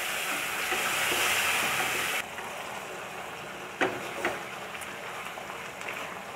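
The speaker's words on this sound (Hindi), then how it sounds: "इसको हम 3 से 4 मिनट तक भूनेंगे।" Spice masala paste frying in ghee in a pan while being cooked for a Rajasthani cucumber sabzi, a steady close sizzle that drops in intensity partway, then continues with a few sharp clicks and scrapes.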